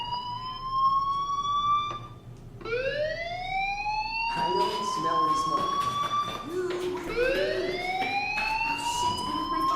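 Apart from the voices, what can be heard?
fire alarm ringing in video game Life Is Strange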